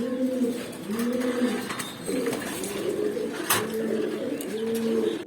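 Pigeons coo in repeated rounded phrases, steady and fairly close, with a few faint chirps from other birds behind and no talking.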